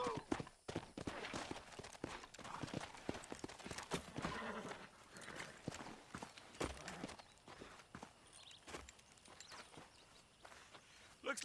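Horse hooves clip-clop steadily in Red Dead Redemption, with a brief neigh. The hoofbeats sit close and loud, running under game dialogue and music for the whole stretch.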